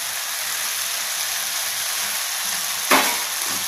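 Fried okra is tipped into cooked tomatoes in a pan for a simple palya, with an even, close hiss of frying broken by a short clatter as the okra goes in.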